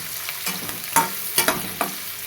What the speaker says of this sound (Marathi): चांगला कांदा असा हलवून घ्यायचा ब्राऊन कलर होईपर्यंत कांदा